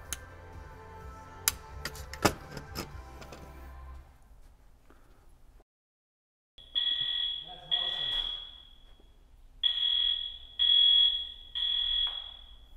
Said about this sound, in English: the fire alarm system took control of our audio system